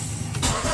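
A Dodge Neon engine idles roughly and sags as the brake is tapped, a low close rumble that dips and shifts as if about to stall.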